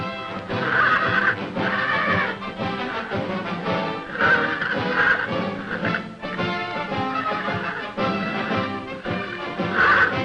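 A wild stallion neighs and whinnies repeatedly over a continuous busy background of hooves and commotion, loud and close throughout.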